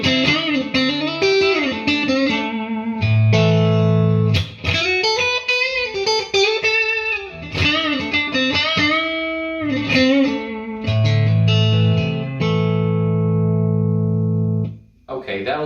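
An electric guitar, a Stratocaster-style guitar on its neck pickup, played through an amp with no pedals, mixing strummed chords and single-note lines with sustained, slightly effected tones, loud and close, with no talking.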